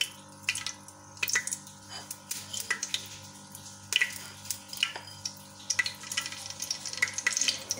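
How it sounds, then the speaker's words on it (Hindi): Whole spices such as cinnamon, cloves and black pepper frying in ghee in a pot, with soft continuous sizzling and scattered crackles and pops close by, quiet and with no talking. "इसको हम थोड़ा सा जो है वो फ्राई करेंगे ताकि इनको जो है वो बनाई हो जाए"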